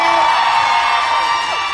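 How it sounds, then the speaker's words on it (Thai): A crowd screams and cheers loudly and continuously to welcome two performers onto the stage at a Thai live fan event, a dense sustained wall of shrieks. "ถ้าทุกท่านพร้อมแล้วขอเสียงกรี๊ดกันต้อนรับมิวกับก้าว"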